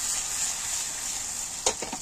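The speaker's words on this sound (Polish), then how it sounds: "smaży się elegancko" Steady close sizzling of mushrooms frying in a pan, with a few soft clinks and scrapes near the end.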